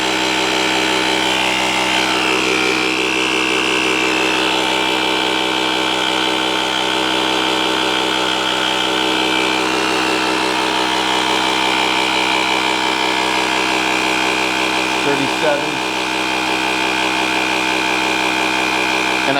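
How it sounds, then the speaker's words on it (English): Small portable tire inflator pump built into an Andeman multi-function jump starter, running with a steady loud buzzing drone throughout, close and continuous with a brief clunk near the end. "A little bit on the loud side, but it's a small pump."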